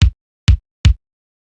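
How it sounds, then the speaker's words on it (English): Three punchy kick drum hits from a Kawai R100 drum machine, bass drum sample with a Linndrum-like character, each a short deep thump with a bright click attack, spaced unevenly and dry with silence after. "So exactly like a Lindrum kick drum"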